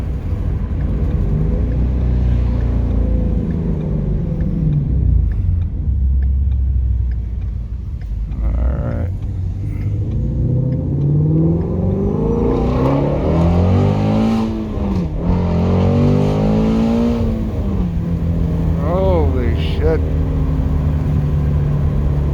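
A sports car, either a 2021 Toyota Supra A91 or a 2018 Shelby GT350, accelerates hard, heard from inside the cabin. Its engine drones steadily, then climbs in pitch through a loud, rising rev.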